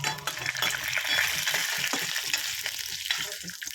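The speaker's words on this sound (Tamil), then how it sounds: "கொஞ்சம் கடுகு போட்டுக்கலாம், அது கூடவே கடலைப்பருப்பு கொஞ்சம் உளுந்தப்பருப்பு கொஞ்சம் போட்டுக்கலாம்." Mustard seeds, chana dal and urad dal fry in hot oil with a busy, continuous sizzle and crackle, close and fairly loud, with stirring noises mixed in.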